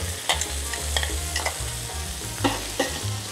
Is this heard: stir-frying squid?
yes